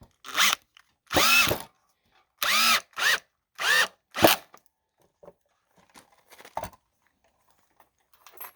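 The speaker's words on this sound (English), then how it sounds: "Now I'm going to drill the last two screw pilot holes." A power drill bores screw pilot holes into a wooden board in short, loud whirring bursts, about six in a row, followed by faint clicks and handling noises in an otherwise quiet space.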